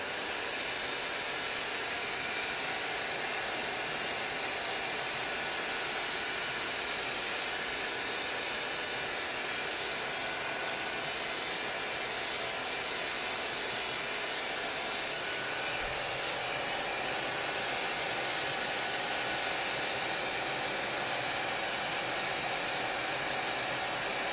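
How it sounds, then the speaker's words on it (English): A heat tool drying mist-sprayed flowers on a paper tag blows with a loud, unbroken roaring hiss that stays steady and close for the whole stretch, with no talking. "I'm going to dry it with the heat gun, or the heat tool."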